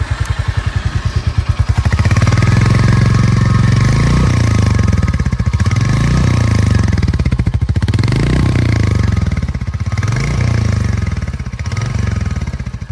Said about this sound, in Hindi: गाइज एक बार हम बाइक का एग्जॉस्ट नोट ज़रूर सुनेंगे।